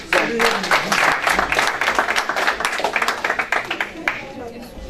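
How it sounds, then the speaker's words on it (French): Audience applause breaks out at a debate on gender parity, dense clapping filling the room for several seconds before thinning out near the end, with a voice briefly heard over it. "Sous vos applaudissements."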